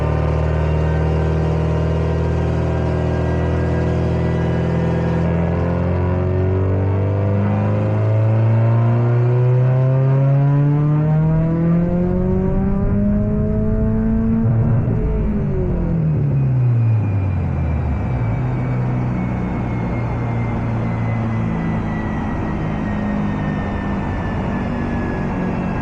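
A Subaru STi screams through a full dyno pull, its engine note climbing steadily for many seconds before abruptly dropping back, loud and close, with the rollers droning throughout.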